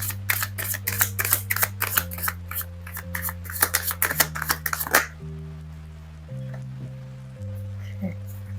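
Tarot cards are shuffled in quick, crisp riffling bursts, then drawn with lighter slides and taps, close and fairly quiet, with a low background hum.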